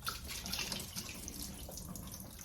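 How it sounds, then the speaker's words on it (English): Collected condensate water from a washer-dryer unit poured into a sink, a steady close splashing rush that lasts the whole short moment with no talking. "I dump it in the sink every time I do a load"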